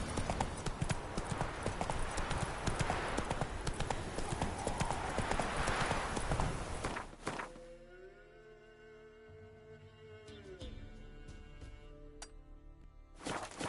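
A horse's hooves clip-clop in a steady rhythm through The Witcher 3 on PS4, loud and continuous for about seven seconds before dropping away to quieter game ambience with tonal sounds.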